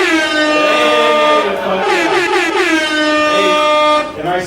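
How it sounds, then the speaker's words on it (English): DJ-played air horn blasting loudly at a live comedy show in Laredo, a continuous blaring tone with a wavering, stuttering pitch pattern, while someone shouts briefly over it. "give me a fucking air horn again, bro. Give me an air horn."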